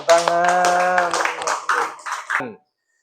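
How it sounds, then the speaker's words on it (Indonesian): A classroom of students clapping their hands, a burst of rapid applause mixed with young voices, loud and close, tapering off then stopping abruptly into silence. "Tepuk tangan"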